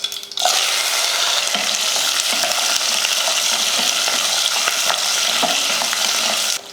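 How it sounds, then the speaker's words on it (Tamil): Curry leaves and small shallots hitting hot oil after mustard seeds have popped, a loud spitting crackle that bursts in and holds as a dense, close sizzle with light stirring clicks, no speech. "கடுகு பொரிஞ்சதுமே கொஞ்சம் கருவேப்பிலையும் 100 கிராம் அளவுக்கு சின்ன வெங்காயமும் சேர்த்துடலாம்."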